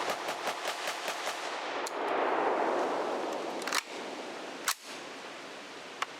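A gun lubricated with canola oil fires a magazine, starting with a quick string of evenly spaced shots, then a few louder, sharper single shots spaced farther apart, with hiss and ringing between them.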